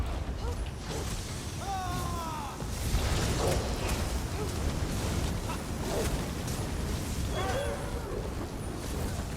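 Ring of Fire spell cast in Elder Scrolls Online, a roaring fiery whoosh with rumbling bursts and bright magical chirps layered over a dense background, with a voice speaking during it.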